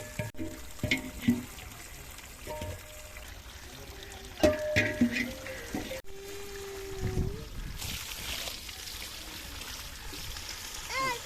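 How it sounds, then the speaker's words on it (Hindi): Rice for zarda being washed by hand in cold water in a village kitchen: faint splashing, trickling and sloshing at close range, with intermittent clunks and a brief pouring stream. "अच्छे तरीके से धोया गया है इनको फिर से ठंडे पानी के साथ।"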